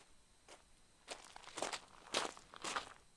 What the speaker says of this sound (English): The sound of approaching footsteps stops.